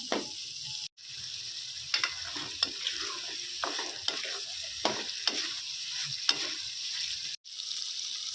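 Tomatoes cook down in a pan for mutton liver masala, a steady soft sizzle broken by repeated spatula stirs and scrapes, close and continuous with two brief cuts to near silence, no speech.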